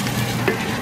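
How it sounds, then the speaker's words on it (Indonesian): Garlic and onion sautéing in a pan for a ground beef mixture, a continuous close sizzle with a soft stir. "Ini mau aku tumis garlic sama onion buat dicampurin."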